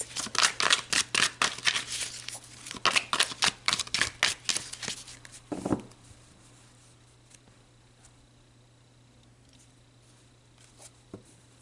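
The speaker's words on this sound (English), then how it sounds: "let's pull a couple more cards" Tarot cards shuffled in quick rhythmic riffles for several seconds, crisp and close, then a couple of softer slaps and slides as cards are pulled, followed by near quiet.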